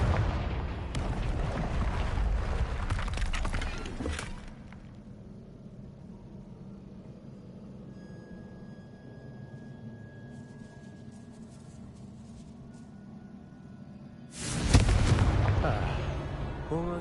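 Confringo blasting-spell explosions in the video game Hogwarts Legacy: a loud, roaring blast lasting several seconds, then a quieter rumbling lull, then a second heavy burst near the end, close and powerful.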